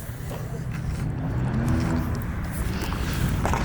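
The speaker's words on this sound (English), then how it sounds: "I told you I heard some two-stroke." A two-stroke engine at a car meet in New Jersey drones at moderate distance, its pitch wavering slightly as it runs steadily through the outdoor crowd noise.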